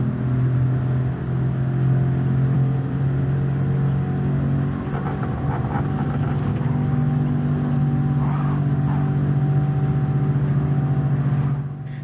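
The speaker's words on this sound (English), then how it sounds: "The Veyron is an absolute weapon in the straight" A Bugatti Veyron engine in a racing video game, the Deep Forest Reverse track, holding a loud steady high-revving drone as it accelerates down a straight, continuous and close with no talk.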